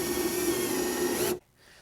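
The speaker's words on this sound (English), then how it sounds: "First, you'll have to drill a hole." A steady, grinding power drill whirs at close range for over a second, drilling a hole in a cabinet front, then cuts off abruptly into near silence.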